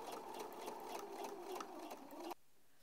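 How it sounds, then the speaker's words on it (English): Sewing machine stitching along the bottom folded edge of a fabric messenger bag at regular stitch length, a steady close whir of rapid needle strokes that stops abruptly, then near silence. "I'm sewing right along that bottom folded edge there"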